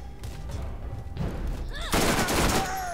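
The orange Hellcat SMG fires in Borderlands, a rapid burst of close, loud gunfire punctuating game sounds, with a voice briefly heard.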